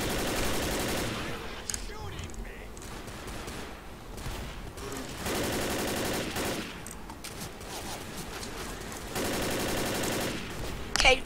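Gunfire from the zombie shooter Left 4 Dead, with sustained bursts of rapid automatic shots in loud stretches separated by quieter gaps, a dense battle din throughout.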